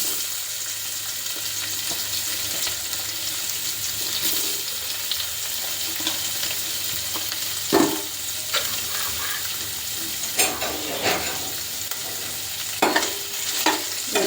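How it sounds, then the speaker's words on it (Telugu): Paneer pieces lightly frying in hot oil in a pan, a low continuous sizzle with occasional sharp scrapes and clinks from stirring, close and fairly steady throughout, no voices. "ఇవి కొన్ని కొన్ని వేసుకొని లైట్గా ఫ్రై చేసుకోవాలి"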